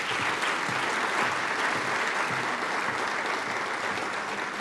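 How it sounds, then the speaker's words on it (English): Full, sustained applause from a large audience at a 2013 debate event, a dense even roar of clapping that holds steady for several seconds without voices. "Please give her a round of applause"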